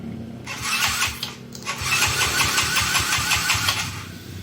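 A modified 213cc motorcycle engine cranks repeatedly with a rough, stuttering churn, pausing briefly and cranking again without catching into a steady idle.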